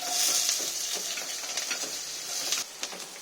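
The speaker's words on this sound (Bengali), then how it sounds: "পেঁয়াজটা আমার লাল লাল করে ভাজা হয়ে গেছে।" Chopped onion sizzles steadily in hot oil in a pan with nigella seeds and a dried red chilli, with a few soft stirring scrapes and clinks on top, close and continuous with no talking.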